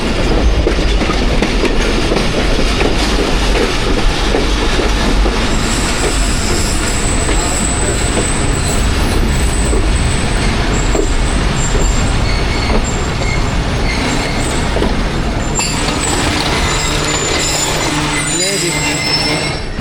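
A Pakistan Express passenger train travels from Rawalpindi to Wazirabad on an early rainy morning, its wheels and carriages rumbling loudly and steadily along the rails with a rhythmic clatter and occasional squeal throughout.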